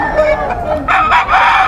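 Bull stag gamecocks at a market stall crow in a couple of loud, close bursts, with clucking between them and a faint voice in the background.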